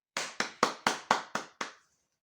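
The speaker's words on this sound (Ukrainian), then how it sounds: "Дуже раді всі малята, плескає в долонечки." Seven crisp hand claps in a steady, even rhythm, close and clear in a quiet room, with children clapping during a nursery class.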